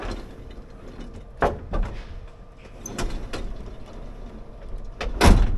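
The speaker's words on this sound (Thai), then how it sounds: "เดี๋ยวผมจะลองปิดประตูนะ" A sliding door on a capsule hotel pod in Kuala Lumpur slides shut, with several soft rolling and clacking bursts and a firmer latching thump at the end, close by, with no talk.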